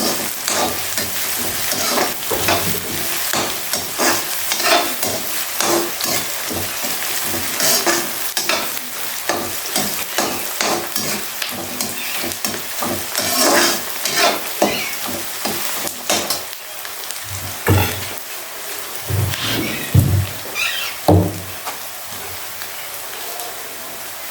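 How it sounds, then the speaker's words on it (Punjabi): Tempering spices sizzle and crackle in hot oil, punctuated by a spoon scraping and stirring the pan in irregular bursts, close and loud. "ਆਪਣਾ ਤੜਕਾ ਕਰ ਹੈ ਹਲਕਾ ਜਿਹਾ ਗਰਮ ਕਰ ਲਈਏ"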